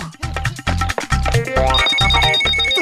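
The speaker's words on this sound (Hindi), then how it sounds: "तुम्हारा फोन अभी ही बजना था" A phone rings loudly in a rapid repeating electronic pattern, bright warbling tones pulsing in short bursts and then holding steady, with no talking.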